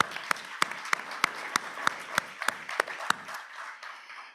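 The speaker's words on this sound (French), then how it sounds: "Donne-moi un applaudissement, s'il vous plaît." Sparse audience clapping at a general assembly, with a dozen or so loud, evenly spaced sharp claps over a softer patter that thins out and fades near the end.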